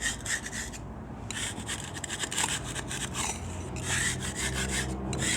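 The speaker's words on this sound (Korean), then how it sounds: "이렇게 칼이나 스크래퍼로 면을 정리를 해주신 다음에요." Knife or scraper rasping across a bare concrete floor while cleaning off stuck debris before an epoxy coating, steady repeated scraping strokes with short pauses, close and fairly loud with no talking.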